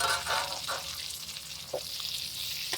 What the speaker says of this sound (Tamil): தக்காளி நல்லா கரையிற அளவுக்கு வதக்கிக்கலாம்.